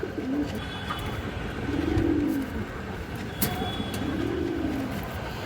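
Pigeons, including female birds offered for sale, give two soft rolling coos a couple of seconds apart over a steady bed of background noise nearby.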